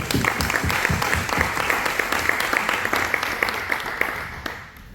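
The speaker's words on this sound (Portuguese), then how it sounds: "Merece uma salva de palmas." Audience applause at a university talk, with a run of distinct claps at the start that thickens into steady clapping, then tapers near the end, with faint voices mixed in.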